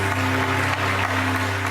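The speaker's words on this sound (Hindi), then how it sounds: "तालियां।" A game show studio audience gives sustained applause, a dense even wash of clapping layered over a steady tonal hum from the studio.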